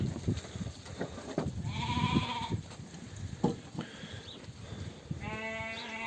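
Several lambs, mostly Merino, bleat in turn, high wavering cries near and far, over a busy background of shuffling and other animal noises.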